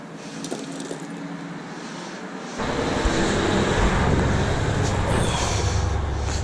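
Trucks drive past a workshop where a racecar is being wired. Quieter background noise gives way to a sudden loud, sustained roar of passing traffic with wind-like rushing, and keys jangle briefly.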